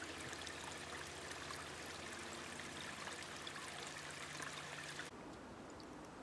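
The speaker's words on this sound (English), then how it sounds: "As spring approaches, more and more small streams appear in the landscape." A small stream trickles through a Pacific Northwest winter forest in Discovery Park, a faint, steady wash of running water with no other sounds, thinning abruptly near the end.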